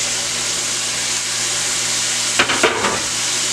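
Onion, garlic, peppers and tomatoes sizzle in a pan for saltfish. A constant close hiss is broken near the end by two or three quick stirring scrapes.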